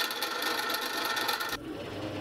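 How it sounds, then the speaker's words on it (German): A drill press bores into square steel tube, widening holes to 5 mm, with a steady close metallic grinding whir that cuts off abruptly partway through, leaving a low hum. "Als nächstes werden die Bohrungen auf 5 mm geweitet"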